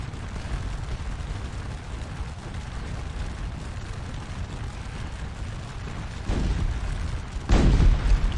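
Napoleonic-era cannon fire in Scourge of War: Les Cent Jours: a constant distant battle rumble, then two deep booms land close together near the end, the second louder.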